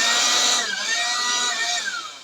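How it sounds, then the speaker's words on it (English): A small 24-volt battery-powered electric air blower, used like a mini leaf blower on an RC truck, whirs with a steady loud rushing hiss and a shifting motor whine, close up and continuous with no speech. "this guy runs off of a 24-volt battery, and it's almost like a mini leaf blower."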